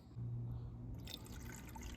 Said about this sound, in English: I'm going to pour them over the eggs.